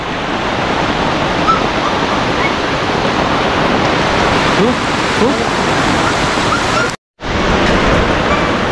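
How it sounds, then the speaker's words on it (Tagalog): Dense, steady roar of heavy rain pouring down close by, continuous and loud, with one brief dropout near the end. "Lakas ng ulan na yan."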